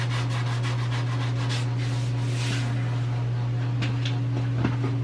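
A sanding block rubs back and forth over the rusty drip rail of an old Dodge, a steady scratchy abrasion heard close up over a constant low electrical hum.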